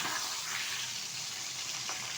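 Pieces of rohu fish fry in hot oil in a home kitchen, a steady, close hiss and crackle that runs without a break and no voices over it.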